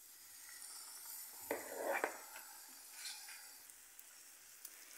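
Fried ice cream sizzling in a small pot of hot oil at medium temperature, a soft steady crackle that swells in a brief burst of bubbling as the pieces are stirred, then settles back to a faint hiss.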